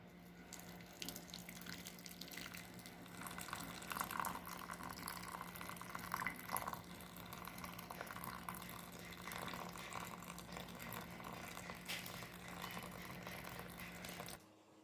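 Rice being rinsed in a kitchen sink under a running tap, a continuous gush of water with some splashing and stirring, steady and close for the whole stretch before stopping abruptly at the end.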